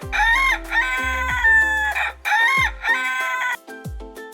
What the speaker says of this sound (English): A rooster wakes everyone up in the morning.